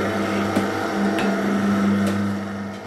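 An electric motor on a pork crackling stirring machine hums steadily with a low tonal drone, a few sharp clicks and clanks punctuating it as the paddle turns the pork jowl in the pot.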